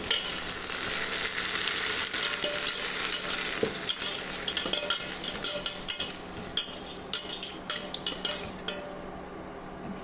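Chicken curry is sautéed in a kadai with a loud, continuous sizzle and repeated metal spoon scrapes and clinks against the pan, getting more rhythmic toward the end, with no speech.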